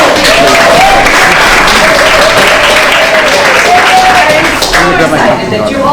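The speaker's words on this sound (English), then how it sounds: "So give her a round of applause one more time." A loud, sustained round of applause from an evening audience that includes children, dense clapping running for about six seconds with a faint tonal sound and some voices mixed in.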